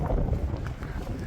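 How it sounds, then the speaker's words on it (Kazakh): Wind buffets outdoors at a car market, a close rumbling gust of microphone noise with no talking. "Сәл кішкене жел соғып тұр."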